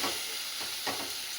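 Potatoes and onions frying in a home kitchen pan, a soft steady sizzle with faint stirring scrapes, quiet and brief with no voices.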